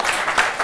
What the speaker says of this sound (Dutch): daar mag u best voor klappen